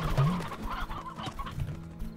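A chicken clucks in a video game after being released from a chicken cube, giving a string of fowl clucks and short rooster-like calls, fairly close and steady with no talking.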